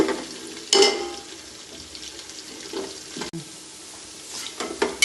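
Green chilli, ginger and curry leaves frying in oil for a Kerala-style garlic pickle, a continuous hissing sizzle with occasional louder spatters and a sharp clink, fairly close.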